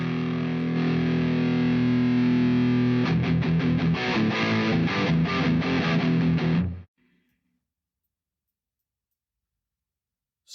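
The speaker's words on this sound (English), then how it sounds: "Uber gain." Electric guitar through a NUX MG-101 multi-effects unit on its Uber Gain distortion with everything maxed out: a long sustained heavily saturated chord, then fast aggressive chugging strums, cut off abruptly into silence.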